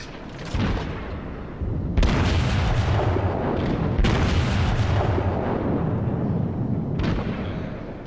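Battleship artillery salvos in the naval combat game World of Warships, heavy booming blasts with long rumbling tails, several in sequence, loud and close.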